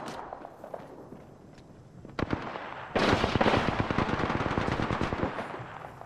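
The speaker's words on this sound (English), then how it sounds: "I am taking fire, friends." Gunfire in the video game Apex Legends: a few sharp single shots, then a loud, dense burst of rapid automatic fire that keeps going to the end, close and with no speech.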